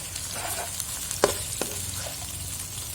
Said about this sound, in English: just mix them. Stir them